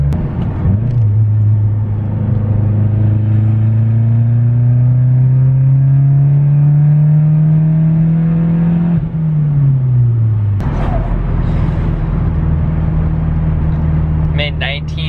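Mazda Speed 6 turbo with a Corksport blow-off valve spooling under acceleration, a rising whine over engine drone, then a drop and a burst of release as the throttle lifts, recorded from inside the car.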